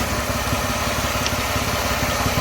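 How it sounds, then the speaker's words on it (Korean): A Mercedes-Benz E320 with a welded exhaust repair and a cracked catalytic converter idles steadily and loudly up close, an even low rumble with a faint rhythmic ticking. "시동을 걸어 소음을 확인합니다"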